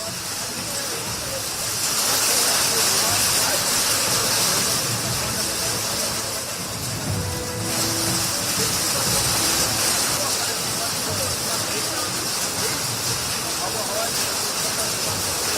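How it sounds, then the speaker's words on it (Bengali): Heavy rain driven by gusty wind during bad weather at Kolkata airport: a loud, dense roaring hiss that runs steadily throughout, swelling slightly after the first couple of seconds. "প্রবল বৃষ্টির সঙ্গে দমকা হাওয়া,"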